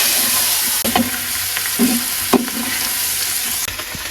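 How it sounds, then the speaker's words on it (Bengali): Onion greens sizzle steadily in hot oil, with a few sharp clinks and scrapes of a utensil stirring the pan. "এই তেলে পেঁয়াজের কলি দিয়ে দিলাম"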